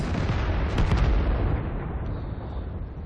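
Tank cannon shot in World of Tanks on an Arctic map, a single heavy boom with a sharp crack at the start and a long rumbling decay that fades over a few seconds.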